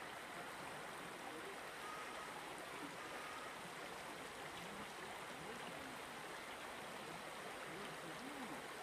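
The Hrazdan river in Yerevan flows below a city footbridge, a continuous soft rushing of water that holds steady throughout, fairly distant and quiet, with no voices.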